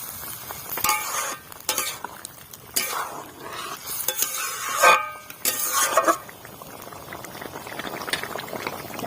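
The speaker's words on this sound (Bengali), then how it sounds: "এখন একটু নাড়িয়ে দেব।" Vegetarian Bengali data chorchori, drumstick curry with mustard paste, is stirred in a bubbling pan, giving a steady boil with wet scraping and clinks of the spoon against the metal in irregular bursts, close up and with no voices.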